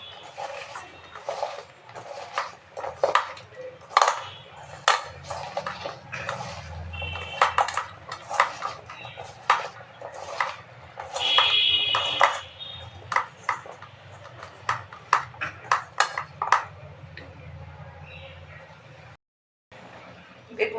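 An onion and salt mixture is mashed by hand in a metal bowl, giving a run of close clattering, scraping and tapping knocks in an uneven rhythm while someone talks over it.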